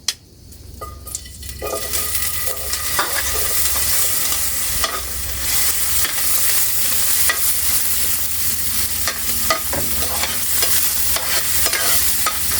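Ingredients sautéing in a pan for bilo-bilo, a loud, close, continuous sizzle with stirring scrapes and crackles after a brief quieter start.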